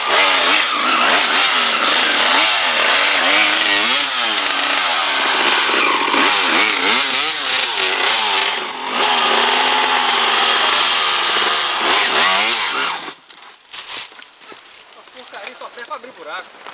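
A two-stroke dirt bike engine revs hard on a trail, with a loud, raspy, buzzing drone whose pitch wavers with the throttle for about thirteen seconds before dropping off into quieter sounds.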